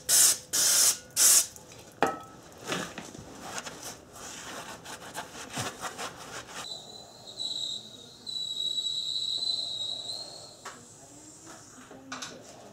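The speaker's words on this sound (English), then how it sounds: "this is just some brake clean to clean off the rotor" Brake cleaner is sprayed onto a brake rotor from a Subaru: a few loud close hissing bursts at the start, then scattered clicks and rubs, and a longer steady spray hiss later.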